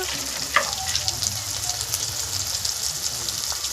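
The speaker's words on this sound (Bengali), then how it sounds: "এই আমি ভালো করে মশলাটা একটু কষিয়ে নেব যতক্ষণ না তেল ছাড়ে।" Ground spices frying in hot oil for a village-style chicken curry give a steady, close sizzle with occasional soft stirring scrapes throughout.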